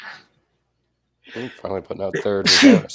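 A single sharp sneeze bursts out near the end, close and loud, right after a stretch of conversational speech from a podcast host.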